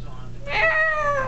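A small child imitates a cat with a drawn-out, whiny meow in a home setting, one close vocal mew rising over a steady low background hum.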